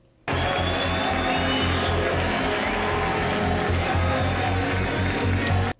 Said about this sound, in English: Everyone cheering for the country.